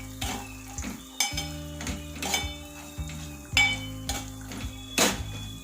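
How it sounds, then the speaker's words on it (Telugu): Mustard seeds and cumin crackle and sizzle in hot tempering oil for tamarind rice, with a spoon clinking and scraping against the pan in repeated strokes, close and moderately loud, no talking. "ఇప్పుడు మిగిలిన తాలింపులు ఆవాలు,"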